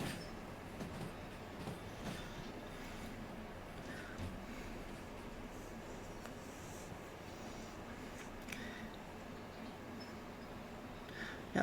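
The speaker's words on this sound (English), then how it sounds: "Backing your train up." Train backing up in the Derail Valley simulation game, a steady low rumble of rolling rail cars with faint clicks and occasional wheel squeal, continuous and fairly constant throughout.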